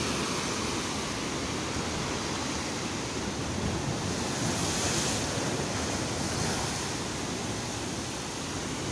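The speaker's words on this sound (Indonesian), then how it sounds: "memang di sini ombaknya sangat besar ya." Large ocean waves break on a hidden village beach at Pasiripis, Surade, a dense, continuous roar of surf with wind noise buffeting the microphone, loud and unbroken.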